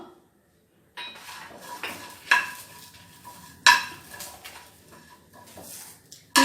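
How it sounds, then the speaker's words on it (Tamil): Grated coconut roasts in a pan with cumin, curry leaves and dried chillies, giving a soft sizzle broken by several sharp clinks of a spoon against the pan; close and without talk. "தேங்காவும் போட்டு நல்லா நம்ம இதை வறுத்துக்கலாம்"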